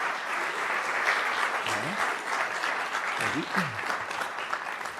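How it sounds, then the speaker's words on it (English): Conference audience at a keynote conversation clapping steadily in a sustained round of applause, moderately distant, with brief voices audible underneath. "Give Rory a big round of applause."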